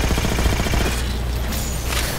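Rapid gunfire in the video game Halo 4 crackles and thuds as a dense, continuous burst of shots, loud and close, with no talk over it.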